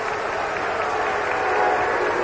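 Wrestling arena crowd at a 1987 match, a steady wash of murmuring and faint clapping heard from a distance, fairly quiet and unbroken.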